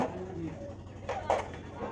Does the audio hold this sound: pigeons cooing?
yes